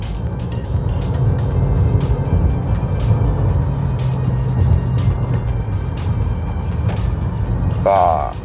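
A Honda Accord G9 with about 132,000 km, freshly fitted with Monroe OES suspension, is heard from inside on a test drive: a steady loud road and engine drone throughout, with someone speaking over it.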